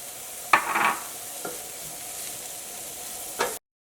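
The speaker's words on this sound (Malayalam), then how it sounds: "ക്യാപ്സിക്കം ജസ്റ്റ് ഇതിൻ്റെ കൂടെ ഒന്ന് മിക്സ് ആയാൽ മതി" Spatula scrapes and stirs sautéed vegetables with capsicum in a frying pan for a rava roll filling, a few distinct close scraping strokes over a soft steady sizzle, with no talking.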